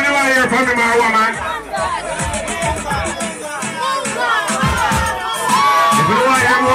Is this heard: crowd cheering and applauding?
yes